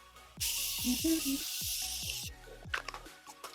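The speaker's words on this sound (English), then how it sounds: "I'm just going to spray this all over my face." A steady, airy hiss of Morphe setting mist sprayed over a face for about two seconds over soft background music, followed by a few light taps.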